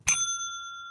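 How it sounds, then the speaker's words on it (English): A small dinner bell rings once as a correct-answer cue, a sharp bright strike followed by a long clear ringing decay that fades slowly, heard alone. "Like a dinner buzzer, like a little dinner bell."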